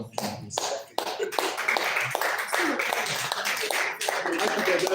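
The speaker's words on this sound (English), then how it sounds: "A round of applause from my leader, General Gaddafi." Audience applause at a civil service programming event, a dense patter of clapping hands that swells and carries on steadily for several seconds, with some voices mixed underneath.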